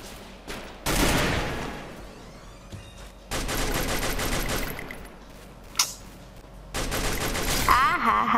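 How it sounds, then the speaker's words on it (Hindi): Several bursts of M249 machine gun fire in the Free Fire mobile battle-royale game, with sharp rapid volleys separated by short pauses, loud and close, plus a brief crack in the middle. "I hi machine gun bro machine gun"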